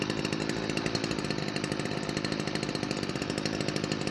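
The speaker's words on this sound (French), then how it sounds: "la tronçonneuse, j'ai oublié de vous dire, elle a pas de pompe d'amorçage" An old chainsaw without a primer bulb runs steadily nearby, a loud, rough, rattling drone that holds constant throughout with no voices.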